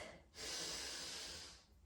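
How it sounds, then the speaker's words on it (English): A single deep, airy inhale taken during a yoga session, a smooth rushing breath that swells quickly, holds steady for over a second, then fades, heard alone and close. "Big inhale to the lungs."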